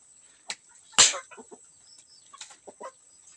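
A few short clucks from chickens nearby on a small backyard flock, sparse and intermittent over a quiet background with a faint high electrical whine.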